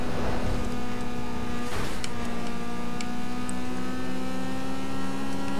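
Car engine surging under nitrous boost in Need for Speed Underground 2, a loud, sustained, close engine whine with a brief whooshing swell partway through.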